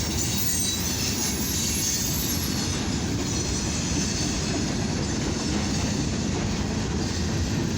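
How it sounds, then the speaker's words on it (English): A CFE-09 eastbound mixed freight and steel train passing on the main track in winter, a loud continuous rumble of railcars with wheel squeal and faint clickety-clack running the whole time, close by and without talk. "Got a CFE train, mixed freight steel"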